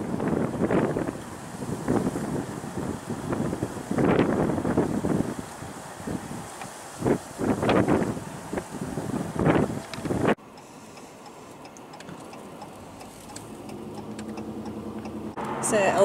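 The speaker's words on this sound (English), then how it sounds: "The wind is still quite strong here." Strong wind buffets the microphone outdoors at El Paso, Texas, loud rumbling gusts that surge and fade for about ten seconds before dropping to a quieter steady rush.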